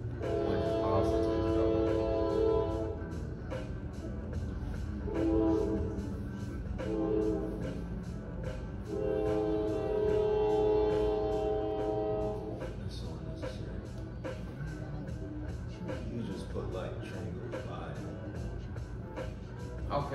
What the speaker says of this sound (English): Hold up, this train going by.